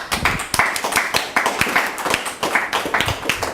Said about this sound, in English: is it hard for you to clap for her?